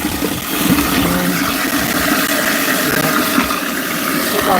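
A food waste grinder runs with water flowing through it, grinding scraps such as avocado: a steady whirring, gurgling churn that holds at a constant level after a brief start, close and loud with no talk.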